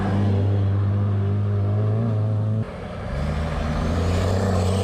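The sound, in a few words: old European bus with big diesel engine driving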